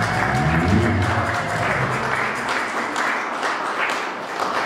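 Church congregation applauding in praise of the Lord during a French-language service, dense ongoing clapping with some voices mixed in, fairly distant and moderate in level.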